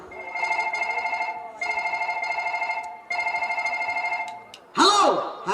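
A telephone rings in repeated long bursts with short gaps between them, loud and close, before a voice breaks in at the end.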